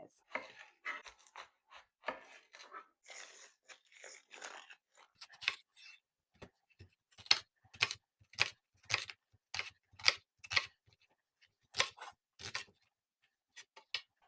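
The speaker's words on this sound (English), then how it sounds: "I'm just gonna cut it in medium thick slices" A knife cuts a large onion into medium-thick slices on a board, giving a run of sharp, evenly spaced chops, close and clear, with a voice talking lightly over the first half.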